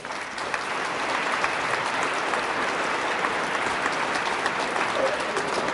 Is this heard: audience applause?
yes